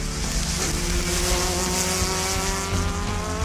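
Racing car engine from Audi's motorsport history, a loud sustained roar with layered harmonics that shift slightly in pitch, heard alone with no voices.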